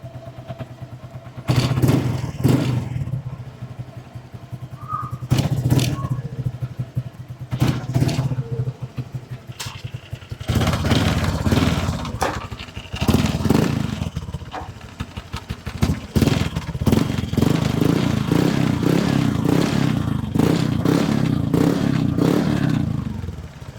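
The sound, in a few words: Honda Click V2 scooter with TRC racing exhaust pipe revving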